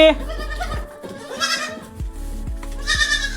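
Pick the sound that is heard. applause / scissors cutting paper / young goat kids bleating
young goat kids bleating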